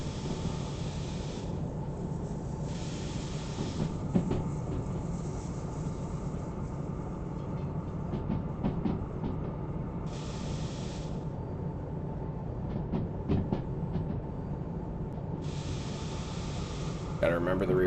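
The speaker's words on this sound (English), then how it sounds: "Gotta remember the rear of that train is still coming through that bend there" Locomotive train in the Derail Valley simulation game rolling through a bend at under 40, a steady broadband rumble and hiss with intermittent bursts of wheel-and-rail noise, continuous and fairly close throughout.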